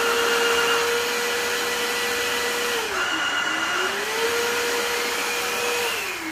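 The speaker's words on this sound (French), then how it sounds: "vous avez entendu le bruit que ça fait, c'est le bruit d'un aspirateur." Vacuum cleaner running steadily and close by, its whine dipping briefly in pitch around the middle as the load changes, then recovering to a constant drone.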